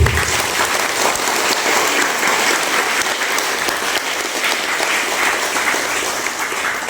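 Audience at a university opening ceremony breaks into loud, sustained applause, a dense wash of many hands clapping steadily throughout with no talk over it.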